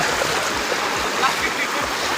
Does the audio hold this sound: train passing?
no